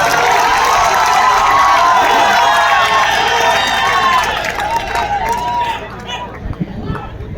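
A large mushaira audience gives a poet, Dr. Shashi Shariya, a loud sustained round of applause mixed with cheers and chatter, holding steady before gradually thinning out into scattered claps and murmurs.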